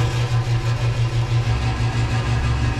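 A boat or island vehicle's gasoline engine runs at idle, a loud, close, steady mechanical drone with an even throbbing pulse and no talk over it.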